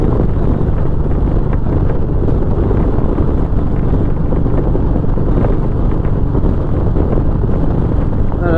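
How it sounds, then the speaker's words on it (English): Wind roars around a motorcycle rider on the highway behind a Memphis Shades Road Warrior fairing, a loud, continuous buffeting rumble mixed with engine drone and no voices. "it's not working at all in terms of wind deflection for me. It's a fail, an absolute fail."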